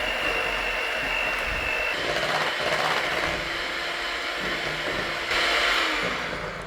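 An electric hand mixer beats eggs and vanilla for a chocolate cake batter, a steady close-up motor whir running unbroken and fairly loud throughout, with no talking.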